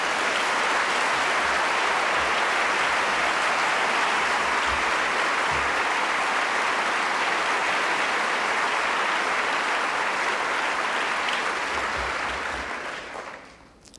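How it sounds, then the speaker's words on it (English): Steady applause from a large crowd at an environmental prize ceremony claps continuously, then tapers off and fades out at the end. "Please give these people a round of applause."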